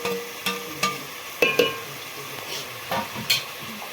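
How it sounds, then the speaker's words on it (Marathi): Chicken masala sizzles and fries in oil in a pot over a wood-fired village stove, with a steady hiss broken by repeated scraping stirs and spoon knocks, close and fairly soft. "येतोय का चरचर आवाज?"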